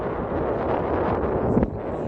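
Wind buffets the microphone near an island riverbank, a continuous low rumble with a short gust near the end and no speech.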